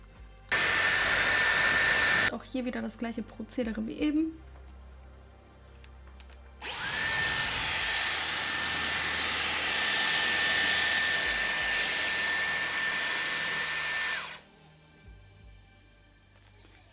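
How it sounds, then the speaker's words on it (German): A Dyson Airwrap with its hair dryer attachment blowing on still-wet hair, heard as a loud, steady whooshing roar in two bursts: a short one, then a brief spoken pause, then a long, sustained run that cuts off abruptly. "Und auch hier müssen wir jetzt gleich wieder mit dem Föhn ran, weil hier oben das Haar noch komplett nass ist."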